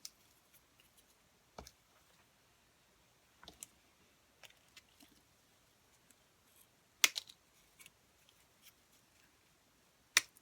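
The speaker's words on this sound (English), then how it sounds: "I really love my new Tim Holtz scissors." Tim Holtz serrated scissors snipping plant stems, a series of faint, crisp clicks and cuts spaced irregularly over ten seconds in a quiet room, a few louder snips standing out, without talk.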